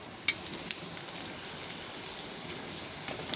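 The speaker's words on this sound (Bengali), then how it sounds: "দেখো এখন এই পাঁপড়টা ভাজছি" Rice papad frying in hot oil at home, a steady soft sizzle with a sharp crackle near the start and faint pops through the rest, heard alone.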